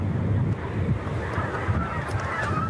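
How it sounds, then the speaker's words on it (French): Brant geese pass over the Gulf of Morbihan in autumn, giving a few soft honking calls against steady wind and water noise, fairly distant and moderately quiet. "en automne, les oies bernaches sont de passage"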